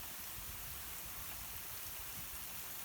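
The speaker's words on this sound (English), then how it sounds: "It's 2:45 in the morning and it's raining ice." Freezing rain falls at night, a soft continuous hiss of ice drops pattering on surfaces, faint and even throughout with no voices.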